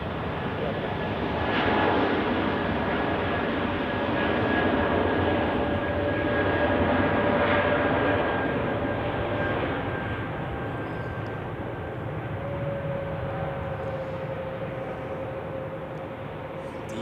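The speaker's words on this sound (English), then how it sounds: "So we have one on the runway, yes, an A220 to Geneva." An Airbus A220 on the runway at Zurich Airport in winter, departing for Geneva, a steady distant jet engine roar that swells slightly and then eases, with faint talk underneath.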